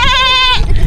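A single loud goat bleat, a wavering nasal cry lasting about half a second, then a brief rustle.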